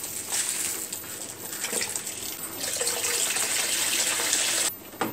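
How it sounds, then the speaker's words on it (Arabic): Five kilos of full-fat milk pour from a height onto a kilo of rice for rice pudding, making a continuous splashing gush that swells midway and cuts off near the end. "كيلو الرز هنزل عليه 5 كيلو لبن"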